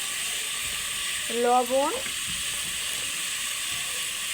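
Ground turmeric and cumin spices hit a hot pan of oil, giving a steady broad close sizzle throughout, with a brief spoken word partway through.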